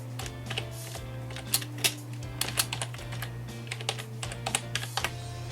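Close computer keyboard typing with irregular key clicks and a few repeated taps like backspace presses, heard over a steady low hum.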